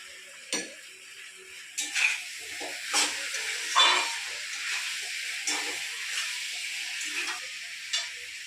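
Chopped tomato for a light rohu fish curry with potato and pointed gourd, sizzling and hissing softly in a hot pan, broken by a series of spoon-stirring scrapes and clinks.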